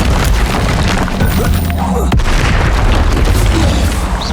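A loud, dense blast from a Confringo spell in the Hogwarts Legacy video game, a booming burst with rumbling debris and a sharp crack near the middle, dominating the whole moment.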